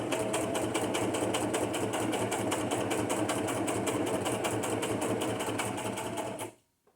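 A sewing machine stitches through paper with a fast, steady mechanical chatter of evenly repeating needle strokes, running continuously before stopping abruptly near the end.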